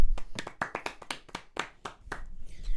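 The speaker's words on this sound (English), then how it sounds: "I think they deserve a round of applause." A few people clap their hands together in a brief, close round of applause during a podcast, with sharp, separate, irregular claps and no talking.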